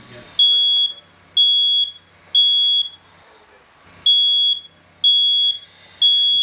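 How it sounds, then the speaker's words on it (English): A smoke alarm sounds loud, shrill beeps in a steady repeating pattern, each beep lasting about half a second, with faint sounds between them. "Your smoke detector is your first line of defense. When you hear it, you need to get out and stay out."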